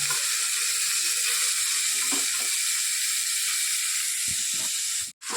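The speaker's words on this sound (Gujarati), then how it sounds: "બધા મઠને નાખી દીધા છે. આ રીતે પહેલાં આપણે શેકી લઈશું." Moth beans roasting in a pan with onions, giving a steady close hiss and sizzle that runs throughout, with a few soft stirring knocks.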